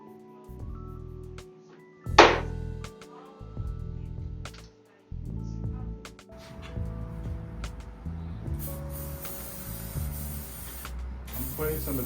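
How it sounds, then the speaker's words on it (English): Silicone spray hisses in a short burst into a part of an R2-D2 droid during an overhaul, amid mechanical clatter and background noise. "I'm putting some of this silicone spray inside here."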